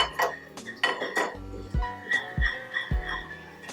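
A frying pan is handled on a kitchen stove while preparing a honey ginger glaze, giving repeated metallic clanks and knocks at an irregular rhythm, close and fairly loud.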